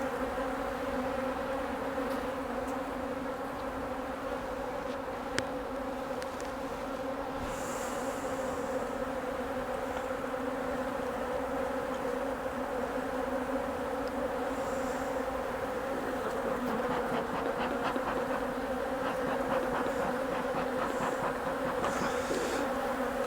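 Steady, dense buzzing of many honeybees around a hive during an inspection of a recently split colony, continuous and fairly loud throughout, with individual bees droning closer now and then.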